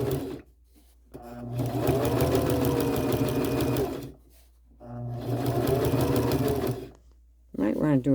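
A sewing machine with a walking foot stitches quilt-as-you-go sashing in two long, close, rapid whirring bursts, separated by short pauses.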